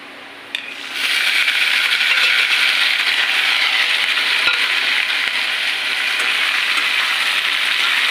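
Tomatoes tipped into a pan of onions already frying to good colour: a brief clatter as they drop, then a loud, steady sizzle that continues close up without pause.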